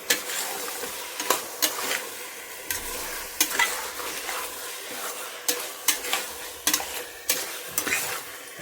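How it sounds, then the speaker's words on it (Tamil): Chicken for a spicy biryani sautés in a pan, a constant sizzle broken by frequent rhythmic scrapes and knocks of the spoon as it is stirred, close and fairly loud with no voices. "ஒரு 2 நிமிஷம் வதங்கி விடுவோம்."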